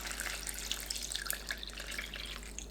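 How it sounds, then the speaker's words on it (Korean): Water runs from a tap into a bowl of sliced onions being soaked in cold water in a kitchen, giving a steady, fairly soft splashing trickle with faint drips, and no one speaks. "양파는 찬물에 5분 담가둡니다."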